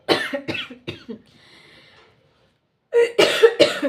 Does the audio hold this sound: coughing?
yes